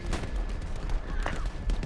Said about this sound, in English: Yay. I sniped him.